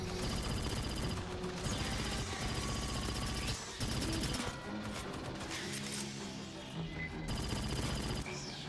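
Rifle fire in the video game Aliens: Fireteam, sustained loud bursts of automatic shots layered over dense game music and impact crashes, with brief pauses between volleys.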